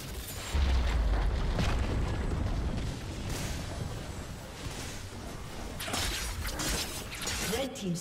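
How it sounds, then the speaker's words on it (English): A turret is destroyed in League of Legends with a booming, crumbling crash, followed by whooshing game effects and layered battle noise. A game announcer's voice is faintly audible. "Red team's turret has been destroyed."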